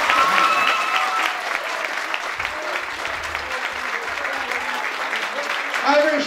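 A church congregation applauds loudly at an ordination ceremony, dense sustained clapping filling the hall with a few voices calling out over it.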